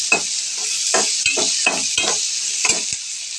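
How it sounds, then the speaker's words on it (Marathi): Onion fries in a hot pan with a constant bright sizzle, punctuated by about eight rhythmic scraping strokes of a spatula stirring it, close up and free of speech. "आता आपण कांदा जरा भाजून घ्यायचा"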